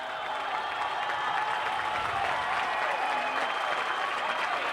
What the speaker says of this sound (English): As you hear the crowd just going wild.